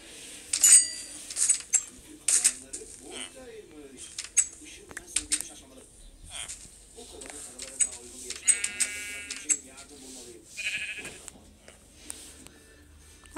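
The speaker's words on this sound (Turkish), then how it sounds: "Koyun koyuyorum." Sheep bleating in the Minecraft video game, short wavering game bleats that come several times amid other game effects and chimes, with someone speaking now and then.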